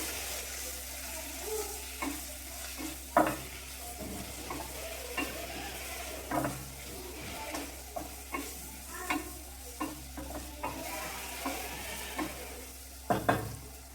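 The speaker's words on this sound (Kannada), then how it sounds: "ಇವಾಗ ಇದನ್ನ ಮತ್ತೆ ಒಂದ್ ಸ್ವಲ್ಪ ಫ್ರೈ ಮಾಡ್ಕೊಳ್ತೀನಿ" Brinjal curry with spices frying in a pan under a soft continuous sizzle, with a spatula stirring and tapping against the metal in irregular scrapes and knocks, close by and without speech.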